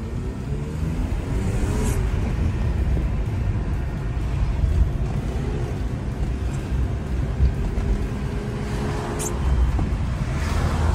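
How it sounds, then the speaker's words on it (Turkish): A BMW E36 320 coupe engine idles steadily outdoors, a continuous low rumble that stays even throughout with wind noise over it. "Araba rölantide gerçekten arkadaşlar saat gibi sayıyor."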